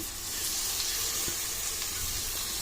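Chopped amaranth leaves (totakura) go into a hot cooking pan, giving a steady, dense sizzle that fills the whole moment, with a faint clink partway through.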